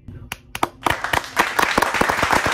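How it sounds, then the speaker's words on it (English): A short burst of scattered hand clapping that builds into steady applause, close and fairly loud, with no voice over it. "Round of applause to you"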